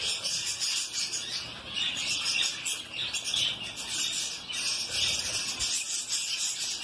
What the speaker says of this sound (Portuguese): Aqui tem mais periquitos também, ó, que ele tá separando aqui para fazer matrizes